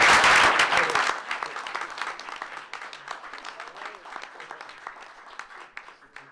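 An audience at a school board meeting applauding student wrestlers invited to the national championship tournament, with loud clapping at the start that fades into scattered, thinning claps.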